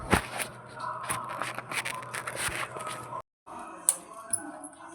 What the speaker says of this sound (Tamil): எந்த மாதிரி பிசைஞ்சோன்னு நான் பிசைஞ்சிட்டு உங்களுக்கு காமிக்கிறேன்.